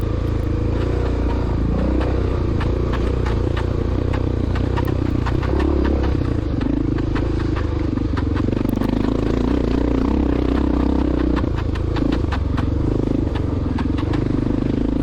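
A Honda XR600R motorcycle engine runs steadily and loudly throughout at a motocross race, with a low rumble and scattered clattering and crackling mixed in.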